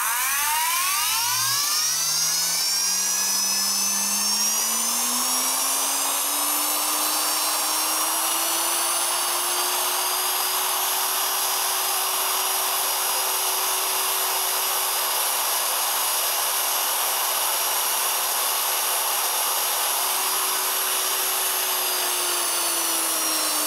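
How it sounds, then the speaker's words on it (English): A repaired power drill with new brushes and gearbox shards removed, on full line voltage, whines up from a low hum to a high steady scream and runs continuously at full speed, close and loud, with no talking. "I'm getting curious how the drill will perform with the new brushes and the shards removed from the gearbox"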